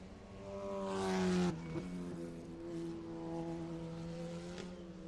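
Ligier Junior Formula race cars accelerate around the Barber track, a far engine note rising in pitch, cutting off with a gear change and building again, fairly faint and steady.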